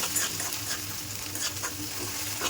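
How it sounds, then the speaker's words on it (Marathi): Onion and tomato frying in a pan give a dense, continuous sizzle and crackle, with faint stirring scrapes coming through at intervals and no voices. "त्याला फ्राय करायचा एकदम मस्त."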